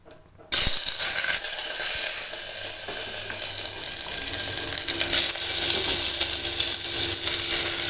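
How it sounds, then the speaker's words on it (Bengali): Cumin seeds and dried red chilli frying in a little oil for a vegetarian dalia, a steady loud sizzle that bursts on after a short silent start and keeps hissing evenly, with faint stirring and no voices. "অল্প একটু তেল দিয়ে জিরে আর শুকনো লঙ্কাটা ভেজে নেব"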